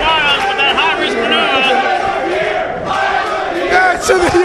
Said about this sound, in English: These crowds are going wild with that high risk